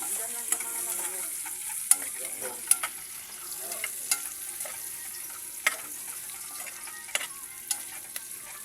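Chili frying in a pan for adobong sitaw, a soft continuous sizzle close by with sharp clicks of a utensil stirring and scraping at irregular intervals.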